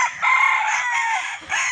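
A rooster crows once, close and loud, in a drawn-out call lasting close to two seconds with a brief dip before the final rise, with no other sound around it.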